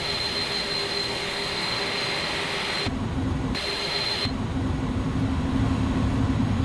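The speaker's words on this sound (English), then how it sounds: "APU is accelerating at the moment" An Airbus A310 auxiliary power unit spools up in a flight simulator game, giving a steady, loud turbine roar with a thin high whine and a low drone that shifts briefly partway through; no voices.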